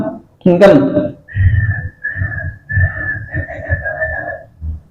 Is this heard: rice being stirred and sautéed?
no